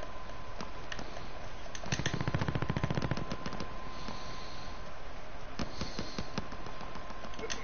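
A light machine gun in a video game fires in bursts of rapid, crackling shots, with a long sustained volley in the middle and shorter bursts later, over faint background game sound.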